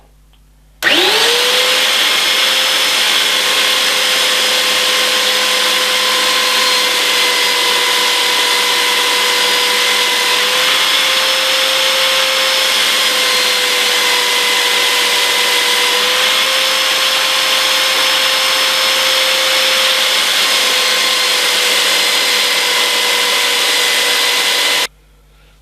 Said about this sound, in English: So I'm going to use the belt sander and just flatten one side off.